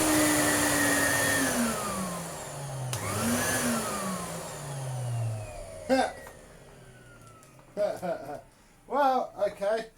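A repaired vacuum cleaner starts and runs with a rising, falling motor whine that sweeps down in pitch, then brief bursts of voices and clatter near the end.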